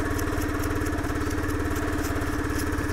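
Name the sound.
SYM Cruisym 300 scooter engine cold starting and idling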